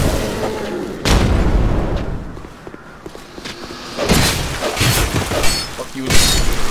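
Fire bombs blow up in Dark Souls 2 as loud sharp blasts with a shattering crack, several bursts spaced across the stretch amid combat noise.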